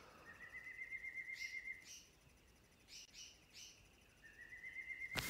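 Birds chirping and calling at night, high short tweets and whistled phrases repeating in bursts across a quiet background, moderately close and fairly busy, with no voices.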